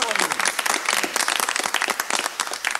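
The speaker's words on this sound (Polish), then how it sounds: "Brawa!" Studio audience applause on a Polish television talk show, many hands clapping in a crisp, rhythmic patter, close and lively, with a voice speaking briefly over it.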